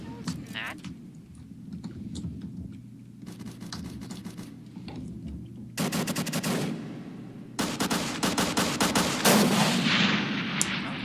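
Bursts of automatic gunfire in a Roblox first-person shooter, with rapid rattling volleys, some single shots and heavier blasts, mixed with keyboard clicks and players talking over the action.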